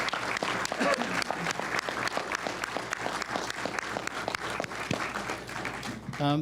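Crowd applause for police academy instructors at a basic law enforcement graduation ceremony: sustained, lively clapping with individual sharp claps standing out, a few voices and cheers mixed in, tapering at the very end.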